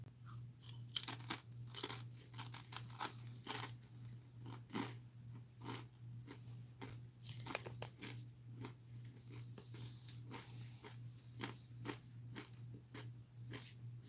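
Crunching and chewing while eating, a steady series of crisp bites close to the microphone, fairly quiet, over a constant low hum, with no talk.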